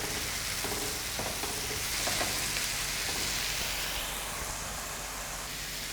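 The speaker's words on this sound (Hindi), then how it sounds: "इसको हमने अच्छे से भून लेना है" Spices and tomato fry in a karahi, a loud continuous sizzle and hiss close up for several seconds, with faint stirring scrapes and no talking.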